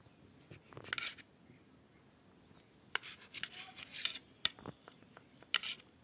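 Food being chopped into small pieces, heard as faint, scattered knife clicks and scraping taps on a cutting surface, quiet and irregular.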